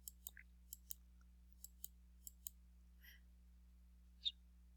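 Sharp computer mouse clicks, some in quick pairs, spaced irregularly across a quiet room with a low steady hum underneath; no one talks.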